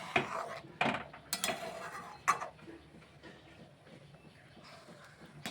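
A spoon scrapes and knocks against a pan while stirring vermicelli halwa with condensed milk, a few sharp clinks up front, then quieter, softer scraping as the mixing continues.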